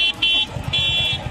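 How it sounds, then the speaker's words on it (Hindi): Vehicle horns honk in a couple of bright, sustained blasts amid the low rumble of busy road traffic with scooters and motorbikes in Himachal Pradesh, India. "गाड़ियों की हॉर्न की आवाज को सुनिए"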